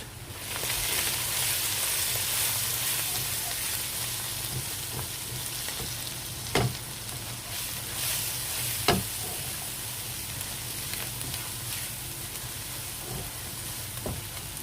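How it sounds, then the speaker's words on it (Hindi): Spices with red chili powder fry in a pan for a red lentil dal, a steady close sizzle broken by occasional sharp knocks of a spoon stirring against the pan. "इसे तकरीबन 7-8 मिनट के लिए अच्छी तरीके से भून लेते हैं हम सब मसालों को"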